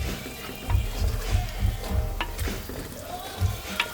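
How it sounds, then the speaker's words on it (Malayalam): Onions and green chillies sautéing in a pan, a moderate sizzle broken by rhythmic knocks and scrapes of a stirring spoon, heard up close with no talking. "ഉള്ളി, പച്ചമുളക് എല്ലാം ചേർത്ത് നല്ലതുപോലെ വഴക്കണം."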